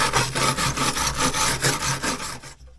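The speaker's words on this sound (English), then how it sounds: "I'm gonna get some off, some heavy stuff off with a wire brush." A wire brush scrubs heavy residue off an aluminum shower door seal piece in quick, even back-and-forth strokes, a raspy rhythmic scratching that stops abruptly near the end.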